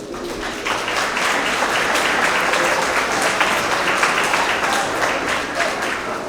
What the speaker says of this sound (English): So if we can give them a big round of applause.